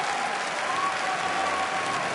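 Steady, dense applause from a large crowd at the 2014 Pokemon World Championships finals, sustained and loud throughout with no pauses.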